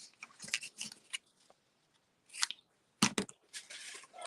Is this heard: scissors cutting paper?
yes